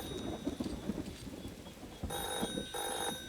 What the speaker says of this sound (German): Das Telefon klingelt?